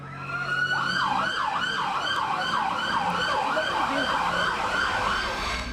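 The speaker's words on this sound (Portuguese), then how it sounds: "A trilha sonora da cidade é a sirene." Emergency vehicle sirens wail loudly and continuously through flood-stricken Petrópolis, a rising-and-falling siren close by, cycling steadily and dominating the scene without speech.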